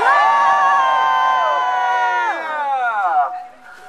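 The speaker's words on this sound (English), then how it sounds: "When I say scream, you all scream." A crowd screams together in one long, loud, sustained roar of many voices, which breaks off and fades near the end.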